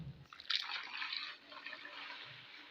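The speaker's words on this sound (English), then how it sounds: "And I'll pour the remainder of my soda ash solution." Soda ash solution is poured onto finely grated soap in a short, faint watery splash.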